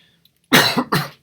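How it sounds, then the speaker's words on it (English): Two sharp, harsh coughs close to the microphone in quick succession after a short silence. "I'm sorry, terrible cough."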